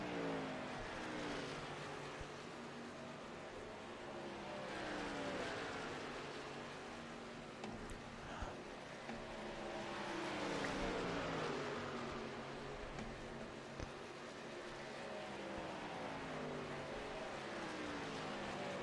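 Race trucks in a Performance MotorSports Truck Series event roar around a track, engines droning and swelling as several pass in a steady stream of overlapping revs, loud and continuous throughout with no talk.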